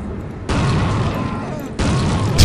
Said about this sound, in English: So I can just throw a flashbang just because why not?